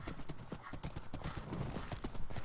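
Quick, steady clip-clop of horse hooves trotting in a Hypixel video game, close and continuous, with no talk over it.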